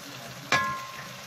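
Saffron and a small chopped tomato frying in a pan while preparing an olive and preserved lemon tajine; a single short sizzling burst rises as ingredients hit the hot oil, then fades into a faint low hiss.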